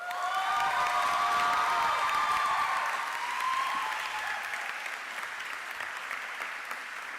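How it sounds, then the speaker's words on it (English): An audience at a fine arts awards ceremony bursts into loud, dense applause with scattered cheers and whoops for a department chair, sustained for several seconds and then easing slightly. "a big round of applause for the department chair"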